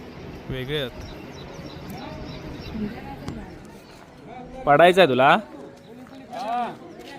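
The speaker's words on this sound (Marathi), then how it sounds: "ते पक्षी कसले सावनी" Birds call beside a flowing river at Hampi in Karnataka, dove-like cooing mixed into steady background noise while people talk nearby throughout.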